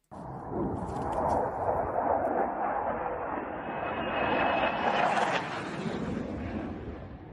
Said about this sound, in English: We now see the second Su-25 coming over, and there it went.